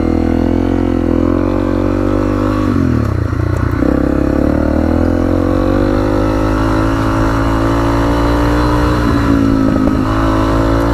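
A Honda CRF 250L trail motorcycle ridden along a green lane, its single-cylinder engine droning loud and steady with slight rises and dips in pitch as the throttle shifts, plus faint clatter from the rough track.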